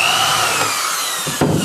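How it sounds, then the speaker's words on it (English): A power drill whirs steadily while boring a screw hole in wood during a boat build, a continuous high whine with a brief dip and restart near the end, close and loud with no talking. "when I get done with drilling this"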